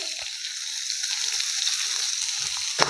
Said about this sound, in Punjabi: ਤੇ ਪਿਆਜ਼ ਨੂੰ ਵੀ ਹੁਣ ਭੁੰਨ ਲਾਂਗੇ ਹਲਕਾ ਜਿਹਾ